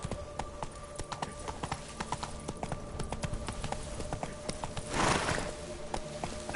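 Hooves of Roach, a horse in The Witcher 3: Blood and Wine, clip-clop in a quick, steady running rhythm, with a brief whoosh of movement near the end.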